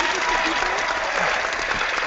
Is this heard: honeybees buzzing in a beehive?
no